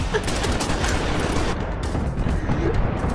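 Rapid bursts of gunfire from a played rap music video, loud and dense throughout, dense volleys and booming shots with no talk.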